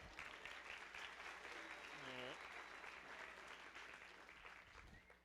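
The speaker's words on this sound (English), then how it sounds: "Another round of applause." Graduation audience applauding an award recipient, a dense wash of clapping filling the room and gradually thinning, with a brief rising tone partway through.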